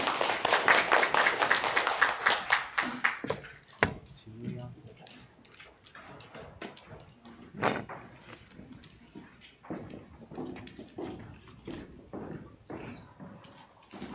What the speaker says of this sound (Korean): 우리 진 집사님 나오실 때 우리 따뜻한 박수 한번 하도록 하겠습니다